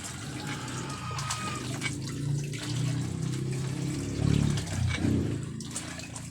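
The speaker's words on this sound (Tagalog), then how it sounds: "Yung tubig, bumalik na ulit sa dati." Steady rush of water gushing from a well pump pipe after a punctured pump cylinder was replaced, continuous and close, with gurgling surges and splashes rising in the middle.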